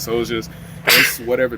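A single sharp, loud sneeze bursts out between stretches of a man's nearby speech, briefly drowning out the talking before he carries on.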